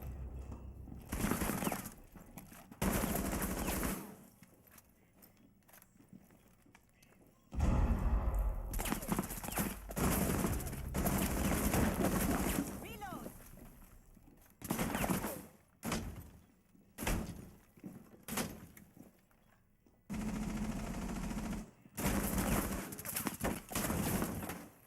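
Video game gunfire in repeated loud bursts, with clusters of shots broken by short quiet gaps over a busy mix of game sound.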